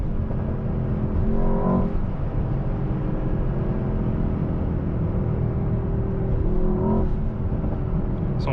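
A 2024 Mercedes-AMG S63 sedan with a V8 engine accelerates in a loud, continuous rumbling drone heard from inside the car. The note swells briefly twice, with no talking.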